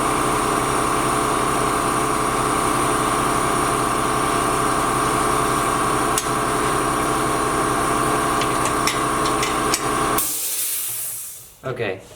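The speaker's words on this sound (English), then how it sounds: "the compressor was running" Air compressor running steadily in a workshop, a loud continuous droning hum with hiss for about ten seconds before cutting off, followed by brief faint handling noises.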